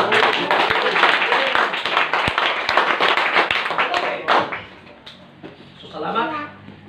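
A church congregation claps hands together in dense, steady clapping that fades out after about five seconds, leaving a voice speaking over the quieter room.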